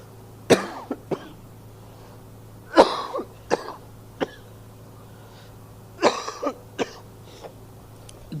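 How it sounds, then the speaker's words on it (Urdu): A person coughs in several harsh bursts, grouped in clusters of two or three, close and loud, with quiet pauses between. "میری کھانسی کی آواز آپ کے کانوں پر اگر بار گزرے"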